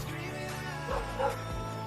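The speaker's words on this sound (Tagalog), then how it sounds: "Pasensya na mga idol sa aso" Dog barking near a rock-formation area in Calatrava, with a couple of brief yips rising over steady background noise and some voices.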